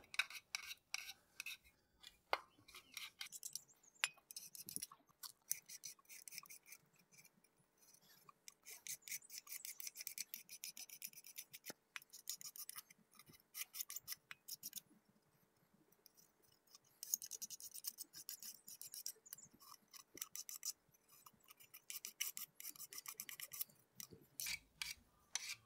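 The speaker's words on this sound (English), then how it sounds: "Then I'm just going to scrape all the material off." Razor blade scraping old gasket material off a Kohler V-Twin Courage engine valve cover, giving close, dry rasping and scratching strokes in irregular bursts with brief pauses, no talking.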